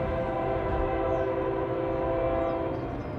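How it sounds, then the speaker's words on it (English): A loud train roars steadily past with a sustained, droning horn layered over rumbling rail noise, unbroken throughout. "the roaring train in the background drowns out the screams of the murderer"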